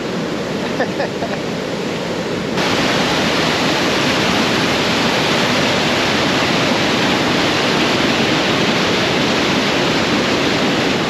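Loud, steady roar of a rushing river near Mount Robson, a dense continuous wash of noise with no pauses, close by and filling the whole scene.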